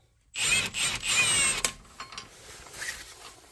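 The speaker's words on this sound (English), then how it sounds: "You get your axle socket, and this is a 32 mil. Have it on an impact gun" A pneumatic impact gun with a 32 mm axle socket on a Subaru Crosstrek axle nut fires one loud, close burst of about 1.3 seconds, then a few softer clicks and clanks of the tool and socket.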